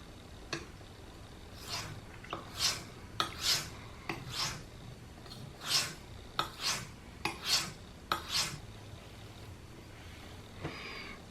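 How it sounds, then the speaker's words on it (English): A knife drawn over a smoother whetstone in a steady run of close, raspy strokes, each a short scraping swell with brief pauses between, softer and less harsh than on a coarse stone. "I'm gonna start doing sharpening with a smoother stone"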